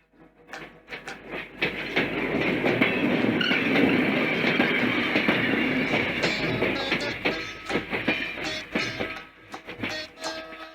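A morning train pulling into Rameshwaram station, a loud rumbling rush with rhythmic clickety-clack of wheels over rail joints that swells, holds steady, then eases off as it slows.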